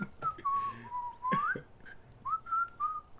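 Man whistling from a played recording, a thin tuneless sequence of sliding notes with short pauses, fairly quiet over a faint background.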